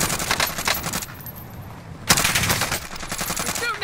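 Automatic rifle fire from a Krig 6 in Call of Duty Warzone on Rebirth Island, loud rapid bursts near the player. A short pause breaks them, then another sharp sustained volley starts, with faint game clatter behind it.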